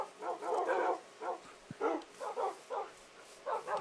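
Repeated dog barks in short bursts, some yipping, steady and fairly close, with no one talking.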